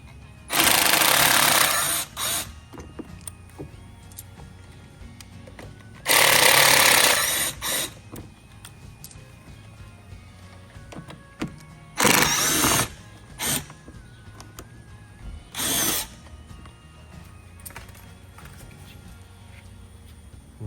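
Power tool backing out screws while installing an air horn on a Canyon, in four short loud bursts separated by quieter gaps.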